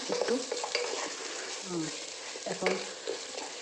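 Potatoes fry in hot oil for a Bengali fish curry, a close, steady sizzle broken by stirring scrapes and soft clatters of a spoon against the pan.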